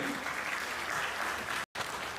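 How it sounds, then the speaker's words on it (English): Sustained applause from an audience at the Telkomcel annual corporate event in Timor-Leste, a steady dense clapping that continues throughout, briefly cut by a short silent gap near the end. "A round of applause, ladies and gentlemen, once again."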